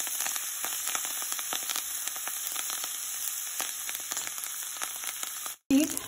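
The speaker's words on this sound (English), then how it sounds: "in this I am going to add this kale. And we have to fry this one for 2 to 3 minutes." Kale sizzles and crackles steadily in a hot pan for a chutney, a constant bright frying hiss with scattered pops.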